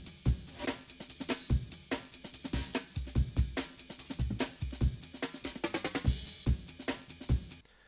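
Two drum breaks layered and playing together give a dense, thick funk groove of punchy kicks, cracking snares and constant bright cymbal wash, loud and continuous, with a flurry of fast hits toward the end.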